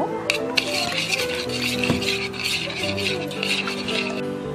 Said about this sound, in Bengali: তাতে দিয়ে দিচ্ছি একটা ডিম দিয়ে ভালো করে আমি এটা এখন গুলে নিব